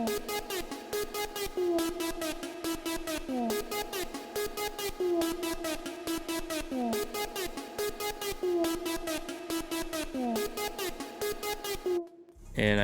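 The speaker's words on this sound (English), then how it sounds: "I just laid down this pattern with a bunch of like slide notes, and I added this just like gate to it" A choppy synth lead with gliding slide notes is chopped by a rhythmic gate into rapid stuttering pulses, playing a looping melodic pattern for about twelve seconds before cutting off abruptly, with no voices.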